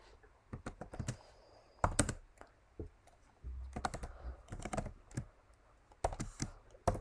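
Quiet computer keyboard typing while C code is entered, with irregular bursts of crisp key clicks separated by short pauses, close and alone.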